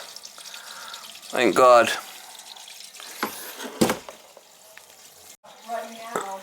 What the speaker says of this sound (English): Toilet's filling, I could hear it.